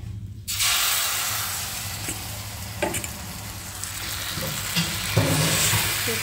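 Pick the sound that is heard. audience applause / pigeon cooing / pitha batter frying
pitha batter frying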